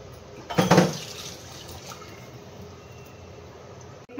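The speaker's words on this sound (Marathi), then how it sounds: "ते पाणीसुद्धा मी त्याच्यात घालणार आहे" Water is poured into a cooking pot of simmering curry: a short splashing pour of about half a second near the start, then a quiet, low background.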